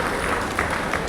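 A crowd at the Go Mahakumbh 2025 event in Jaipur claps to welcome the Chief Minister, a dense, continuous wash of applause that holds steady throughout the brief moment.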